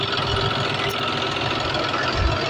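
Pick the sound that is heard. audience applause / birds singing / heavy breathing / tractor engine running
tractor engine running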